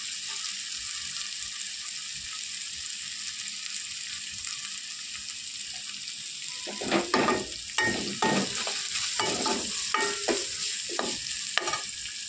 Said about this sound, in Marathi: कांदा फ्राय करून घ्यायचा. थोडा गुलाबी रंग होईपर्यंत आपल्याला फ्राय करायचं.